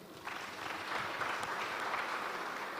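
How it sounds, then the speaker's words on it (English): Applause from a tech conference audience in Edo, Nigeria: a soft, distant, continuous wash of many hands clapping, rising slightly and holding steady. "So please, a round of applause again."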